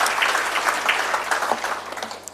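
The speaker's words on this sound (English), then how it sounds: "a round of applause to all our HODs" A room applauds the heads of department at an ARC gathering, with dense, even clapping from many hands sustained throughout, close and fairly loud, no voices over it.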